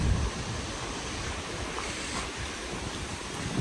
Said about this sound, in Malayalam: കാറ്റ്, നല്ല കാറ്റ്